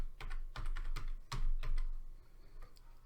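A computer keyboard clatters as a file name is typed, with a quick run of close, crisp keystrokes in uneven bursts and no voice.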